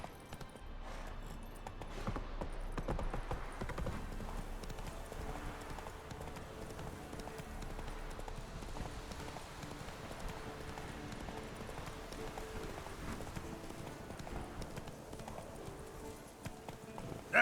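Geralt's horse Roach gallops across open ground in the video game Witcher 3, with a continuous, even clip-clop of hooves that stays close and steady for the whole stretch, and no voices.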